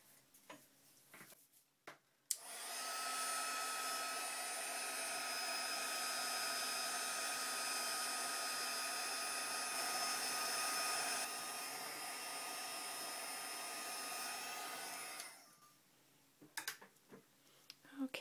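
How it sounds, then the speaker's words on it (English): A handheld heat tool blows steadily over watercolored paper flowers, a loud, even whirring hiss that switches on abruptly, holds for about thirteen seconds and cuts off, with faint taps before and after. "So I'm just going to take my heat tool now."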